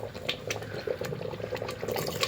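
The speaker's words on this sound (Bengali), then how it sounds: "তাই একটুখানি পরিমাণ মতো আবার একটু জল দিয়ে দিলাম" Water is added to a simmering spinach chicken curry, a soft bubbling, splashing liquid sound with gurgles, close and fairly quiet.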